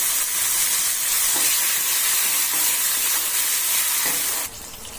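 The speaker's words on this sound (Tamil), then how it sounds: "அந்த தக்காளியை பொடியாக கட் பண்ணி இந்த கடுகுல சேர்த்துக்குங்க." Chopped tomato hits hot tempered mustard seeds in a pan and sizzles with a loud, dense, continuous hiss of frying, dropping away abruptly near the end.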